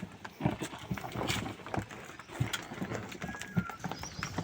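Bullock hooves clop faintly at a slow, uneven pace as a bullock cart hauls manure on a farm, set against outdoor background noise.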